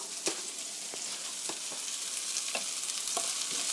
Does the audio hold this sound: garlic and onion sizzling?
yes